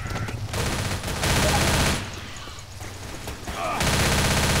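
Heavy, continuous gunfire from survivors' weapons in Left 4 Dead, dense rattling bursts with a short lull in the middle before firing resumes loud and close.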